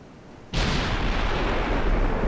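The Bismarck's forward battleship guns open fire in the naval video game Ultimate Admiral: Dreadnoughts, a single sudden heavy boom erupting after a quiet moment and rolling on loudly for the rest of the clip.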